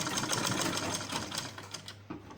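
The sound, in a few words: sewing machine stitching Ankara fabric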